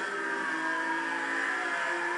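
Car engine in the Need for Speed Hot Pursuit video game, a steady, sustained engine drone with tonal overtones, heard alone and moderately loud for about two seconds; no siren stands out clearly.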